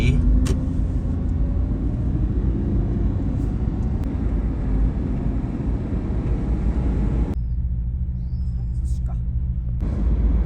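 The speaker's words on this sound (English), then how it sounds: "Looks like another Aventador pulled up here." A Lamborghini Aventador supercar rumbles up at a Tokyo car meet, its deep engine roar filling the scene before cutting sharply near the end, loud and close amid background chatter.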